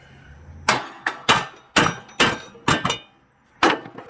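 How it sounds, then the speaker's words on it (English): Six sharp metallic hammer blows strike a riding mower's seized blade spindle pulley, loud and close, each ringing briefly before the next, in an uneven rhythm with a pause before the last. "So I'm going to hit that and then show you taking it out."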